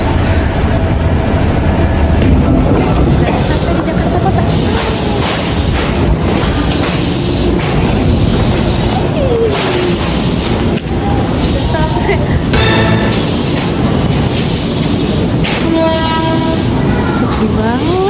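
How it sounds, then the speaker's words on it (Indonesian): KRL commuter train ride toward Jakarta Kota station: loud continuous rumble and rattle of the rail car, with clickety-clack, squealing wheels and a brief horn, and voices talking faintly under the noise. "Aku berangkat naik KRL dari stasiun Kalibata."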